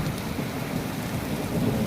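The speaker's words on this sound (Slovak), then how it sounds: "Takže prší." Heavy rain lashes down during a strong storm in Slovakia, with hail also falling, a thick unbroken roar of drops with a low rumbling undertone, close and constant with no one speaking.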